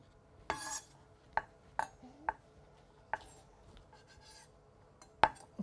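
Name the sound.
knife finely slicing a pile of carrot julienne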